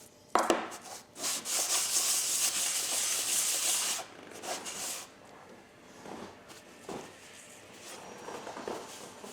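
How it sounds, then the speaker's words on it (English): A vintage Diamond Edge hand plane blade rubbed back and forth on 600 grit sandpaper, loud gritty scraping strokes in a steady rhythm that ease to quieter, shorter passes toward the end, no speech. "I'm going to use this 600 grit sandpaper and just try to keep it at the same angle"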